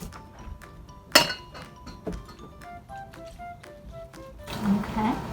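Ingredients for homemade play dough are stirred in a bowl, producing a series of light clinks and taps from the utensil against the bowl, irregular and close, with a sharper knock near the start and soft murmuring voices toward the end.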